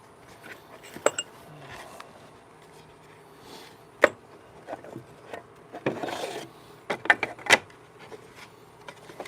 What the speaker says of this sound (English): I'm going to go ahead and put an edge on that while we're sharpening.